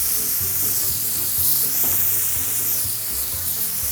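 Soy sauce hits hot oil with scorched scallions in a home kitchen, then eggplant goes in. A loud, steady sizzle and crackle of frying lasts throughout, with no talking.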